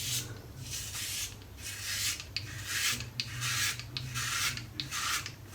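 A six-blade cartridge razor scrapes across a head lathered with slick shaving soap, making repeated close, raspy strokes in an uneven rhythm with brief gaps between passes.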